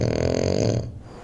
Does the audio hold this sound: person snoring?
yes